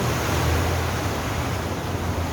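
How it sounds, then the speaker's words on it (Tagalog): Strong flow of water coming down from the mountain, a steady loud rushing wash with deep low rumble, continuous and close, with no talk over it. "Galing dyan po sa bundok ang tubig po na yan."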